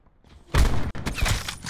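A single loud sniper rifle shot fired in a battle royale video game, a sharp close blast with a ringing tail, followed by a second burst of gunfire-like noise.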